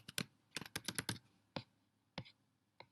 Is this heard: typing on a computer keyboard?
yes